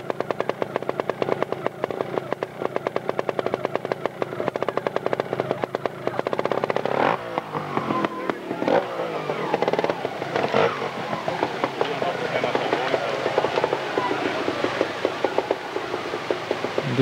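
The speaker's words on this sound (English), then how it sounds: "Fairly rorty sounding Fantic there." A rorty Fantic trials motorcycle engine at the 1992 World Trials Championship at Watkins Glen, USA, revs and pops loudly and continuously, close by, with the pitch rising and falling as the rider works the throttle.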